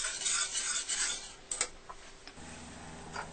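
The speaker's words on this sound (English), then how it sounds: "Give it a stir, let it steep." A spoon stirs a steeping cream mixture for crème brûlée in a pot, giving soft scraping swirls and a few light metallic taps and clinks, with no one talking.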